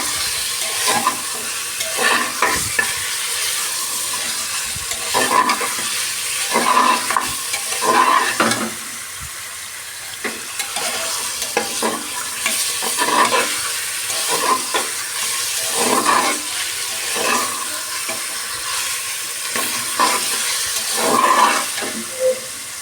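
Mutton and yam (kochu) are stirred in a hot pan, a steady sizzle of frying broken by repeated scraping strokes of the spatula every second or two, close and continuous with no talking.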